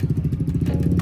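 Yamaha Sniper 155 motorcycle on a test drive, its single-cylinder engine giving a close, steady, rapid low putter through a brief stretch with no talk.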